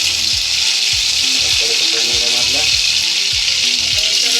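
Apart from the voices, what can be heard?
curry leaves spluttering in hot oil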